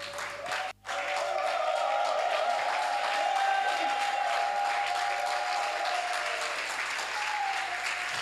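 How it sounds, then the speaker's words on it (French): A church congregation on its feet gives a sustained ovation, clapping and cheering steadily with a held musical tone underneath, after one brief drop at the start. "Est-ce qu'on peut se tenir debout et donner une forte acclamation"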